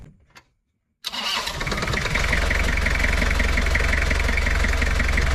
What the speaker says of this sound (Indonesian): Lanjut kita cek sound dari bunyi mobil ini.